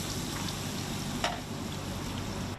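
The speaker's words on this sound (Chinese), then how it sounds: "伊把个米粉糕煎甲酥酥细细，搁再配现制的马铃薯，这是英国上代表性的国民美食。" Battered fish frying in hot oil at a London fish and chips shop, a steady dense sizzle and crackle filling the whole stretch, close and continuous with one brief clatter partway through.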